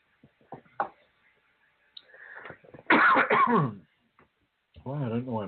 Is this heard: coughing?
yes